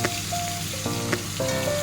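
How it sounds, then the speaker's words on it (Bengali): Sarpunti fish frying in hot oil, a steady close crackling sizzle with faint higher tonal squeals, continuous throughout. "সর্বপ্রথম আমি মাছগুলোকে ভেজে নিলাম।"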